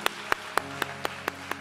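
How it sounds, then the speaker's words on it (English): A church congregation claps in a slow, even rhythm during a Sunday service. Seven distinct sharp claps come at regular intervals over about a second and a half, fairly quiet, above a low sustained hum. "Come on, give the Lord a hand clap."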